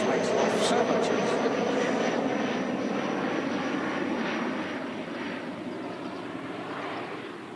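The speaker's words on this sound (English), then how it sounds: "Nice shallow takeoff, which makes life so much easier." An aircraft taking off at Christchurch Airport, a broad steady engine roar heard from a distance that slowly fades as the plane climbs away, with a voice briefly talking over it.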